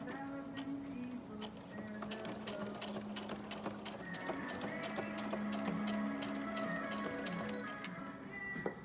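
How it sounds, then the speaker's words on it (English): A sewing machine stitches pleats into a homemade fabric face mask, a fast steady rattling whir running continuously near the mic at low volume. "we're just sewing in those pleats"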